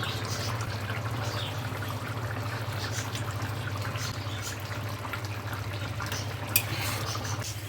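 Cooked lote fish curry with potatoes being poured out of the pan: a steady, soft, wet pouring and trickling sound that runs on without a break, close but moderate in level, over a low hum, with no talk.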